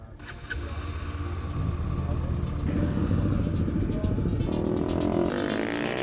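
Several motorcycles pull away together in formation on a hot group ride, their engines building into a loud, steady, rising roar that carries on throughout.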